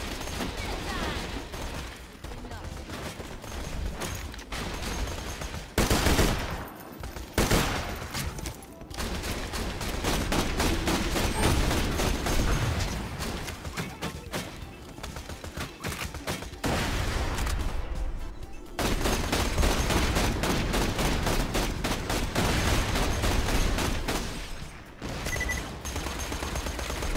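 A sentry gun turret in Borderlands 2 fires dense, rapid bursts of automatic gunfire with heavy impacts, broken by a few brief pauses, loud and close throughout.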